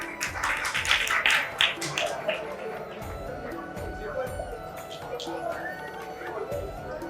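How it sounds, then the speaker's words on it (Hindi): Clapping from a temple audience at a gurukul opening ceremony at Radha Raas Bihari Mandir, crisp and steady for several seconds with voices talking over and around it. "तालियां होनी चाहिए इनके"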